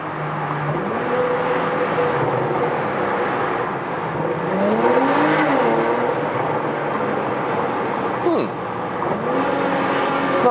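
Porsche Macan GTS (2022 facelift) engine revving inside a tunnel, a loud sustained roar that rises and falls in pitch with gear changes, echoing off the walls.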